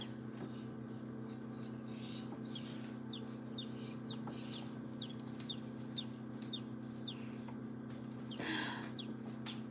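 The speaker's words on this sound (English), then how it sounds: "I will not name a chicken Lester" Newly hatching chicks peep in a rapid string of high, thin chirps over a steady hum of incubator machinery, faint and continuous with a brief louder flutter near the end.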